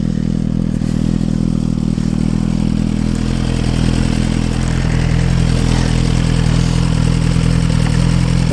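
A motorcycle engine with its stock exhaust runs steadily and loud, a constant low rumble with some mechanical clatter throughout, no voices.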